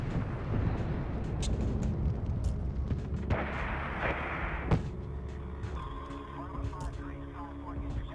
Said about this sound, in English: you guys hear that artillery